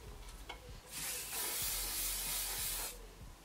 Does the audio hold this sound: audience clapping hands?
no